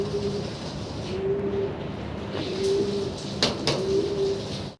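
Fantail pigeons cooing in slow, repeated low coos, about four in a row, with a couple of sharp clicks near the end.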